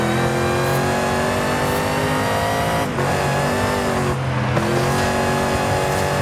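A pickup truck engine in Forza Horizon 5 roars steadily at high revs, loud and continuous for about six seconds, with slight dips in pitch as it shifts and no talking over it.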